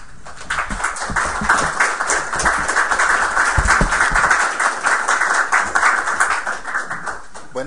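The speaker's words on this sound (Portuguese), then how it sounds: "Recibamos a Marcelo Burk con un fuerte aplauso." A lecture audience welcomes a speaker with loud applause, a dense, close run of rapid clapping that holds steady throughout.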